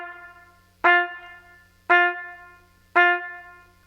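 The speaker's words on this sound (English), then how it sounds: "trying to recreate that feel of that clear ping articulation without the tongue stop" Three separate instrument notes with a clear ping articulation and no tongue stop, each spaced about a second apart, struck with a crisp bright attack and then ringing down smoothly, played alone.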